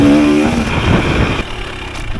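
A 2023 KTM 300 XC TBI two-stroke dirt bike rips along an off-camber trail, its engine loud and close, revving hard and then easing slightly, with no voices.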